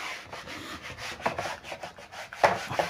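A board is rubbed clean of chalk writing in a classroom, giving a run of scratchy back-and-forth swipes that rise to a louder stroke near the end, close by and with no talk.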